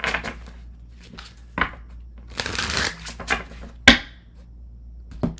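Tarot cards being shuffled by hand, a series of quick riffling and slapping bursts separated by short pauses, close and crisp, with faint background talk.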